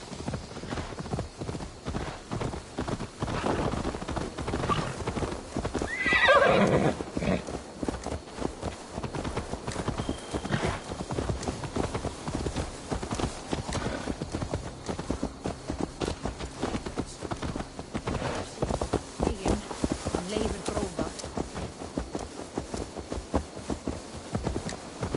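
In a video game, a horse's hooves clip-clop in a steady walking rhythm for a long stretch, close and moderately loud, with a brief whinny-like burst early on.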